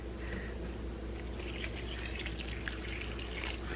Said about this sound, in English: I'm going to add some vinegar in there.